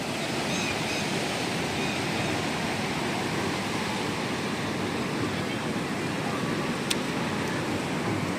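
Steady, loud rush of sea water fills the whole stretch, a continuous broadband wash like surf, close by at the Madhavpur coast where fresh water meets salty sea water.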